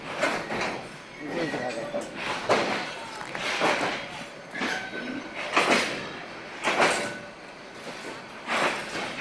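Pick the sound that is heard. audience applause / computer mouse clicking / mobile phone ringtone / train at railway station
train at railway station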